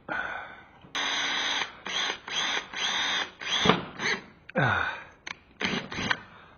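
Power drill match drilling through an aircraft wing during a conversion for gas tank access, running in a series of short bursts of whining motor and cutting, close and loud, with brief pauses between each pass.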